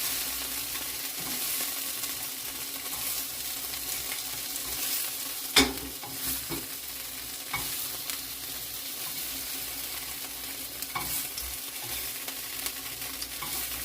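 Venison pieces sizzle steadily in a hot pan, a soft continuous fry with a few sharp clinks and scrapes of a utensil against the pan along the way.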